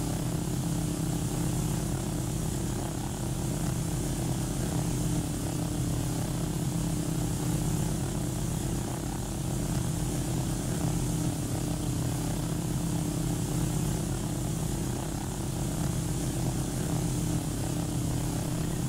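Steady, loud engine drone of a Martin 404 twin-engine airliner in the Orbx Samoa flight simulator, a continuous propeller hum filling the whole stretch without pause.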